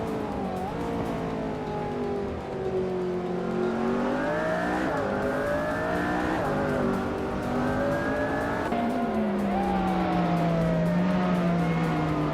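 A 2011 Aston Martin VLN car races with other cars in a racing video game, engines droning loudly and shifting pitch as they accelerate and change gear, with no voices.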